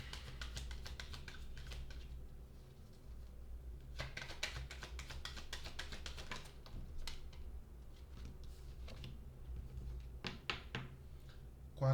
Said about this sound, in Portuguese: Vamos pegar mais cartas aqui.